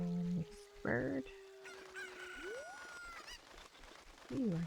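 Chicken clucks and squawks from a bird in The Legend of Zelda: Ocarina of Time, several short bursts separated by pauses, mixed with game sound effects and chimes.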